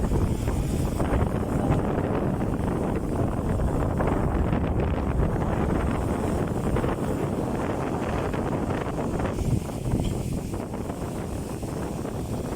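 Strong wind at the seashore buffets the microphone in a steady, heavy roar for the whole stretch, with no voices.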